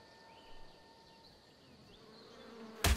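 Flies in the video game Ark Survival Evolved buzz faintly and continuously, with a whining drone that rises slightly in the middle, before a sudden loud burst at the very end.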